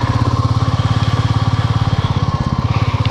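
A motorcycle engine runs on a slushy street with a steady, pulsing throb, close and loud throughout, with no talking.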